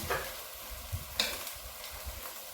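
Ginger and onion fry lightly in a pan, giving a soft, close sizzle with a few scraping stirs and light knocks at irregular moments.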